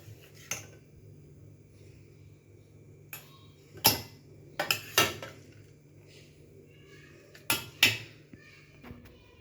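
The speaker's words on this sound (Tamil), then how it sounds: "இதை நம்ம மிக்சி ஜாருக்கு ட்ரான்ஸ்ஃபர் பண்ணிக்கலாம்" Spoon scraping and clinking against steel vessels as cooled kadhambam chutney mixture is moved into a mixer grinder jar; sharp metallic taps come in scattered clusters over a quiet kitchen hum.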